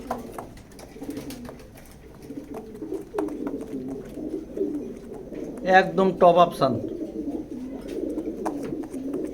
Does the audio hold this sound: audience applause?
no